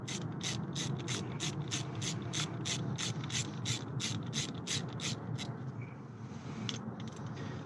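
A hand ratchet clicks through about twenty quick, even strokes, then stops, as it turns bolts on the driver's side rear brake caliper of a Toyota Camry. The clicks sit close and clear over a low background hum.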